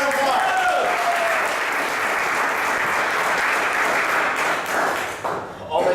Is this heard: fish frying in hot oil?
no